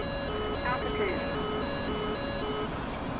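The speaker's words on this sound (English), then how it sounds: "That's what that beeping noise means." A radar warning in the DCS World flight simulator beeps in a steady, repeating electronic pattern of short, clear tones throughout, with a voice faintly present underneath.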